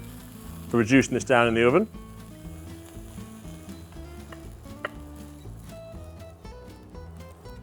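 Lamb mince browning in a frying pan gives a faint, steady sizzle that runs beneath a person talking close by and continues after the voice stops.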